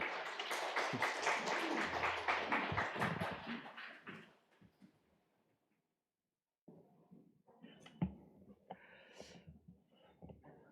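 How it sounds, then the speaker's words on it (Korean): Church congregation at SF Sarang Church claps to welcome the pastor to the pulpit, a loud burst of applause that fades out to silence, then soft rustling and scattered small noises follow. "우리 나오실 때 큰 박수로 환영해 주시면 감사하겠습니다"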